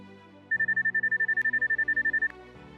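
A 3D scanner watch metal detector emits a rapid train of about twenty evenly pulsed electronic beeps, steady in pitch and clear over a faint background hum.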